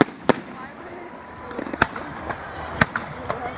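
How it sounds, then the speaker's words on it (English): Fireworks at the Lyme Valley display go off in sharp booming bangs, several loud reports spaced irregularly over a rumbling crowd background with people chatting nearby. "I like the big, massive bang ones."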